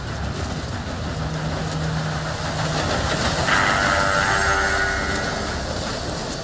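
A steam train arrives in a Red Dead Redemption 2 game scene, its hissing rumble building steadily with a sustained whistle-like tone rising partway through, no voices over it.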